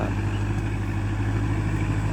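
A Kubota MU4902 tractor engine runs with a steady, close, low drone while plowing and leveling a rice paddy; no one talks.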